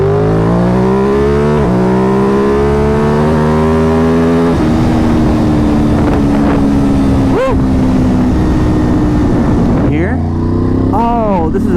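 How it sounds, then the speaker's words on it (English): A tuned Ducati Monster 937 motorcycle accelerates hard at full throttle in second gear. The loud, close engine note climbs steadily in pitch, then drops sharply around ten seconds before revving again. "second gear, 5-ish thousand RPMs, full throttle"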